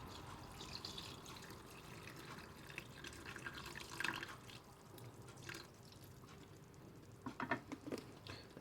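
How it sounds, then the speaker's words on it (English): Water poured into lamb curry cooking in a JML multi cooker, a soft splashing and trickling pour with a few brighter drips near the end, quiet and close with no talking. "now we're going to add some water to this."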